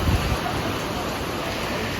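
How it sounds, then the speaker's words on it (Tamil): Heavy rain pours while a car is stopped in the hills, a loud, dense, unbroken roar of water that covers everything, with a heavier thump at the very start. "செம மழை பெய்யுது."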